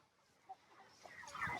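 Chickens on a chicken farm cluck softly as they are let out of their pen, brief low calls building to a denser, louder burst of clucking near the end, fairly close with no talking.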